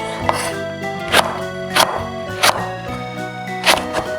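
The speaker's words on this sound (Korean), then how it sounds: "고추도 썰어서 쓸어주세요." A knife chopping chili peppers on a cutting board in a Korean home kitchen, making about six sharp, evenly spaced cuts that ring out clearly with nothing else over them.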